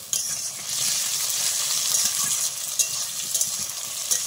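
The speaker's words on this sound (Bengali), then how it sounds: "দেখো টমেটোটা দিয়ে আর একটু নেড়ে ছেড়ে নিলাম।" Chopped tomatoes stirred into potatoes and onions frying in a pan, a steady bright sizzle with light scraping and clinks of the spoon, close and continuous, no talk.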